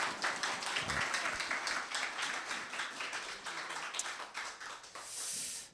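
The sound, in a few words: audience clapping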